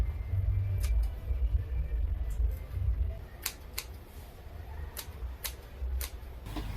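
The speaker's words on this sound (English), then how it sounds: "try to trim them with a scissor" Scissors snip faux locs made from braiding hair in a series of sharp, isolated cuts at an irregular pace, close by, over a low rumbling background.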